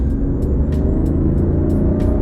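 BMW i8 hybrid sports car, high mileage, accelerating: a loud, steady engine drone with a whistly electric whine on top, heard up close without talk.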